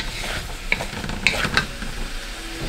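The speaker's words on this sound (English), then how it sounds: "These wooden spoons are really the best on your wok" A wooden spoon stirs black pepper pork in a wok, giving soft scraping and a few sharp clacks against the pan over a steady low sizzle, close and without talk.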